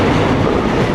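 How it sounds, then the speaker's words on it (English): A train passes close by in Brooklyn, its loud, steady rumble and rolling wheel noise filling the moment with no speech. "The train."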